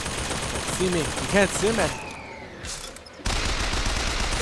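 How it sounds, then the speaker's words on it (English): Gunfire from enemies in Bioshock Infinite, a busy spray of shots aimed at the player, loud and continuous beneath someone talking, with a brief quieter dip before the din returns. "Still shooting at me?"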